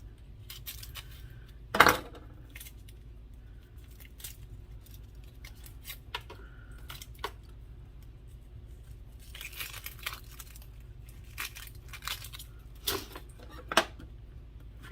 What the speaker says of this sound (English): next we're going to dice up an onion and get that into the crock pot with the broth still in it